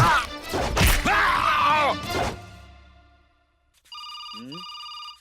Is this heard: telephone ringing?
yes